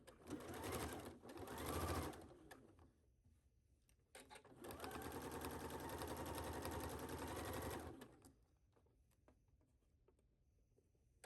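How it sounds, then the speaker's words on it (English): A sewing machine runs in two close, steady bursts, a short one then a longer whirring run of several seconds, as it stitches a 5/8 seam on the pockets of a cargo skirt. "So we will take this to our machines and do a 5/8 seam allowance on both pockets"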